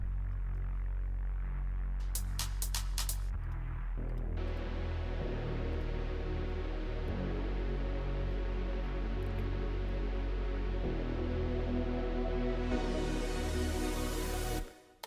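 A thick, gritty electro house synth bass, run through bass amp and distortion with high end rolled off, drones steadily with dense harmonic buzz, joined by a brighter filtered supersaw layer partway through and a rising noisy sweep near the end.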